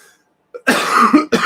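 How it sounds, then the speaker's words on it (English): A man gives a couple of harsh, close coughs in a quick burst during a guitar lesson, with no other sound around them. "this cough just will not go away"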